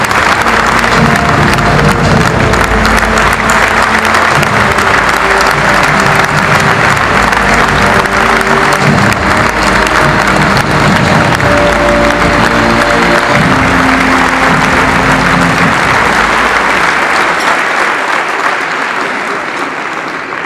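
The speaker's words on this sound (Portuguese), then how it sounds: "uma enorme salva de palmas" A large crowd at a Chega party congress claps in sustained, loud applause that carries on steadily before tapering off slightly at the end.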